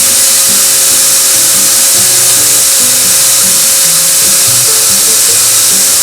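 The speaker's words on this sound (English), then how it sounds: "that very loud noise you've just heard is all the beans transferring from the loader straight up to the bean hopper" Coffee beans carried by a loader up into the bean hopper of a roaster inside a coffee roastery, a loud continuous rushing, rattling whoosh with a steady tonal hum underneath and no talk.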